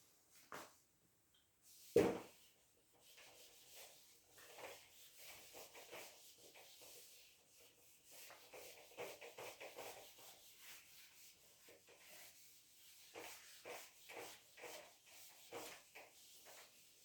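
A board eraser rubs out chalk drawing on a classroom board, giving a long run of rhythmic scraping strokes after one sharp knock, steady and fairly quiet throughout with no voice.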